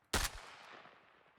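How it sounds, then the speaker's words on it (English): An underslung grenade launcher fires once in a military shooter, a sharp close thump followed by a long fading rumble and echo, with no talking. "that's definitely a UGL firing"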